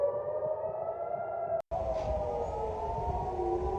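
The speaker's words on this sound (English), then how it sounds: "this is sirens and explosions heard in Jerusalem after Iran launches a retaliation" Air raid siren wailing in Jerusalem during an Iranian missile retaliation, a steady loud tone that drops out for a split second before resuming over a rumbling background.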